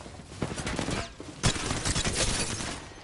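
Repeated gunfire from Apex Legends play, a dense spray of shots with a sharp louder burst midway, continuous and close throughout without talk.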